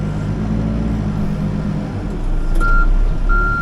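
A backhoe loader engine running steadily in second gear below full throttle at a digging site for spot footings, a loud low diesel drone with a tonal beep starting near the end.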